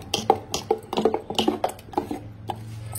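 Dosa batter with cucumber and onion being stirred in a bowl, a run of close clinking and scraping taps of a spoon against the bowl in an uneven rhythm.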